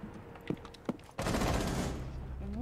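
Gunfire in a shooter video game: a couple of sharp single shots, then a sudden heavy burst of continuous rapid fire that stays loud and dense to the end.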